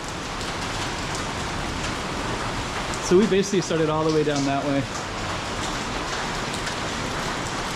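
Heavy rain pours onto a Macau street in a dense, steady hiss that fills the whole scene, with a voice speaking briefly over it partway through.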